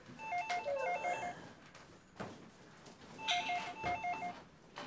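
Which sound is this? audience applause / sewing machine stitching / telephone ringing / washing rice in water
telephone ringing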